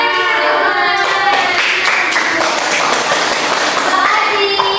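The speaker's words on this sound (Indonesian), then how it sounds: "Kita kasih tepuk apresiasi ya buat kelompok 1 ya" Schoolchildren in a civics class give a rhythmic appreciation clap for a student group, sharp hand claps and taps mixed with children's voices throughout.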